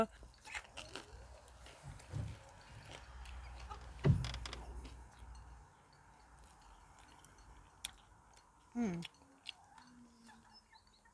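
Outdoors in a vegetable garden, someone chews lamb's lettuce sprinkled with fleur de sel during a lunch break, with faint, soft, irregular crunching bites and a couple of louder close chews against a quiet background.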